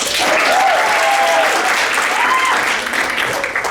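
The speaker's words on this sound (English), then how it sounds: "Please give a round of applause to David Costa." An audience at a guild induction and chapter presentation event breaks into a sustained round of applause, dense clapping holding steady and then thinning slightly toward the end, with faint voices mixed in.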